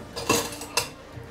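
A whisk or spoon clinks against a bowl while eggs are beaten with sugar and salt, giving two brief metallic scrapes in quick succession.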